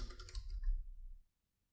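Quick, light tapping on a computer keyboard, a short burst of soft clicks lasting about a second before falling silent, heard close and quiet.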